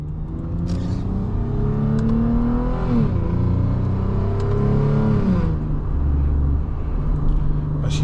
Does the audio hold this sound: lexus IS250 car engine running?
yes